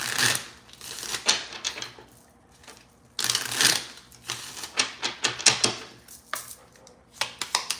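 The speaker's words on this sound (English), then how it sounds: "I'm gonna shuffle on here because it's way easier." Tarot cards being shuffled close up, giving quick bursts of riffling and flicking clatter separated by short quiet gaps, with no talking.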